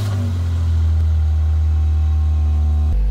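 A BMW E46 with an M52/M54 inline-six engine runs at a steady, loud, low idle right up close. It smokes after starting, and the rumble gives a brief dip near the end.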